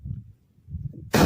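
After a stretch of low muffled background noise, a Carl Gustav recoilless rifle fires in wartime field footage with one abrupt, loud, close blast at the very end.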